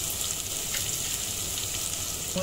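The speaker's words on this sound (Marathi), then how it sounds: "आपल्याला तेल सुटलेलं आहे तर ह्याच्यामध्ये मसाले टाकणार आहे।" Spices dropped into hot oil for chana masala sizzle in a dense, continuous crackling hiss, close and fairly loud, with no voices.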